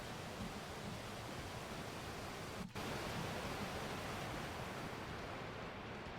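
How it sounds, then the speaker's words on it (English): Steady, even white-noise ambience fills a room in a video game under development, a broad hiss with only a brief dip partway through. "But that gets really loud. It's kind of nice, the white noise."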